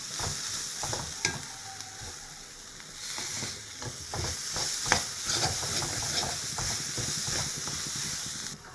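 Green chillies are mashed into a sizzling cabbage stir-fry, with a steady hiss of frying broken by irregular scraping and pressing knocks from the utensil, close and moderately quiet.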